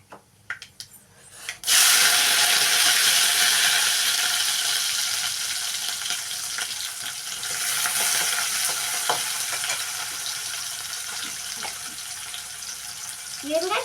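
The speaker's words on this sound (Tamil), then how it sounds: "வெங்காயம் கருவேப்பிலை போட்டாச்சு. இப்போ உப்பு போட்டுக்கிட்டு கருவேப்பிலை வதக்கி விட்டுக்கோங்க." Onions and curry leaves hit hot oil in a pan for a Tamil radish and egg stir-fry, bursting into a loud, steady sizzle that continues with occasional stirring scrapes.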